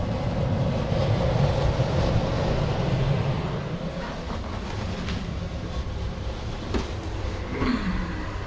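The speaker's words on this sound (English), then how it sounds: "So now we've got the blower running inside." A Goodman variable speed furnace blower runs steadily indoors, a broad continuous whooshing rumble that holds even in level from start to finish with no voices.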